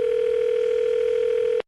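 A telephone dial tone sounds as a single steady, pure hum lasting under two seconds before stopping cleanly.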